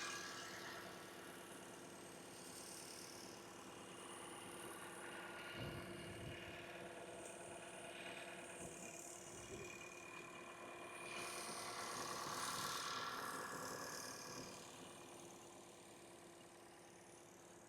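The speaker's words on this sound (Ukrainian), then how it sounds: "Зараз працює двигун. Тойотовський двигун працює класно." The 2.5-litre petrol engine of a Toyota RAV4 hybrid idles with a steady, even low hum and faint mechanical vibration throughout, with no speech.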